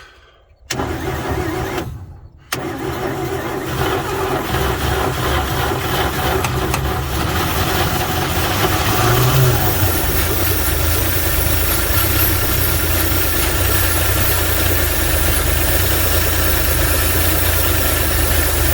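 A 1949 Chevy engine cranks and fires on a cold start after a brief silent gap and a short stumble, then settles into a steady, close idle with a low rumble and light vibration.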